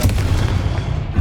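A Confringo explosive spell going off in Hogwarts Legacy, a loud, deep booming blast with a rumbling low end that fills the short moment, close and heavy.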